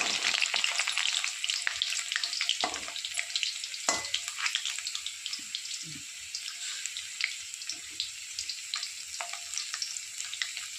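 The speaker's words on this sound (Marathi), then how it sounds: "आपले बटाटे पण फ्राय होते" Potatoes frying in hot oil in a pan for dum aloo, a continuous crackling sizzle at moderate distance with occasional clinks and scrapes and no voices.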